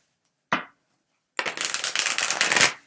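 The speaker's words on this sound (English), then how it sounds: "I shuffle till one card falls out" A short riffle, a pause, then a longer crisp, rapid fluttering of tarot cards being shuffled up close.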